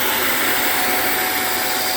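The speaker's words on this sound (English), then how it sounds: "Now I'm gonna use vacuum and steam." A steady, loud whooshing roar of a portable steam carpet cleaner's 16KPa vacuum suction motor running continuously, close up, with no voices.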